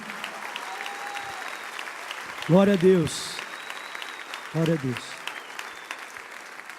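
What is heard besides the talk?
church congregation applauding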